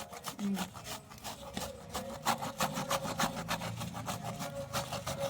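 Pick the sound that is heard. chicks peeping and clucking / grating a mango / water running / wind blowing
grating a mango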